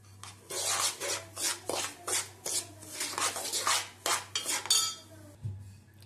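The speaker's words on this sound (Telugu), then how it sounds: "నెయ్యి ఇందడ వేయించుకున్న దాంట్లోనే బొంబాయి రవ్వని వేసేసుకుని వేయించేసుకోవాలండి కలర్ వచ్చే వరకు" Bombay rava semolina roasts in ghee while a spoon stirs it in a pan, giving repeated rhythmic scraping and rasping strokes, close and fairly quiet, with no talking.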